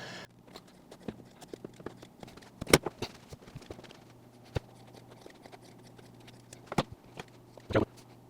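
Expensive scissors snip through a piece of foam a little at a time, giving a few sparse, close, crisp cuts spaced by quiet pauses with no talking.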